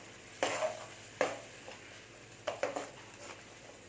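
Quiet sizzling of a tamarind mixture in a pan, broken by a few soft scraping stirs at irregular intervals.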